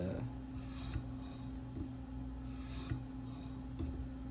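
Light rasping strokes of a K390 steel Spyderco Delica blade on a TSProf K03 guided sharpener, several swipes in a steady rhythm over a constant low hum.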